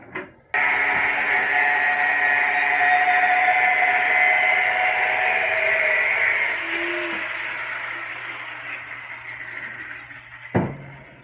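A power tool cuts steel horseshoes in half with a loud, sustained whine that holds steady for about ten seconds, then fades and cuts off with a short clatter.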